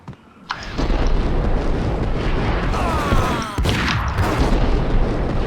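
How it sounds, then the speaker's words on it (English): A grenade explosion in the Max Payne shooter, a loud boom bursting out early and then rumbling on as a dense roar, with a second hit partway through, no talking. "Don't throw your grenade at me, you bastard."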